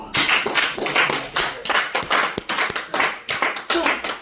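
A church congregation applauds in rhythmic, repeated bursts of clapping, close and loud, with some vocal noise mixed in.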